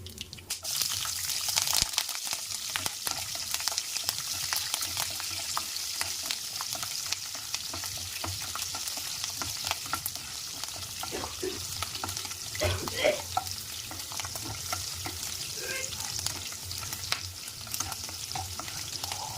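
Peanuts and green chillies for upma fry in a pan with a steady, dense sizzle, punctuated by occasional stirring clinks and scrapes throughout, close and fairly loud with no voices.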